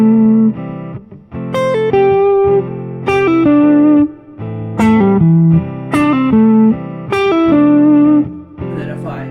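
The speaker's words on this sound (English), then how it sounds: "So this is a 3-note pull-off phrase." An electric guitar run through distortion and effects plays repeated three-note pentatonic pull-off phrases, loud and close, in rhythmic bursts separated by brief gaps, with no talking.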